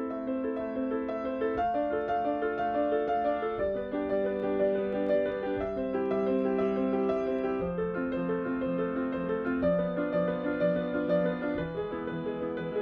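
A piano plays a flowing warm-up exercise with the sustain pedal held down, so the notes ring and blend together in a steady, moderately soft stream with no talking.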